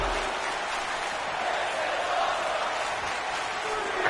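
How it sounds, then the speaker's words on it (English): A wrestling arena crowd roars and chants in unison after a superplex to the outside, a dense, continuous wall of voices and cheering heard from within the audience. "The crowd erupts in This Is Awesome chants"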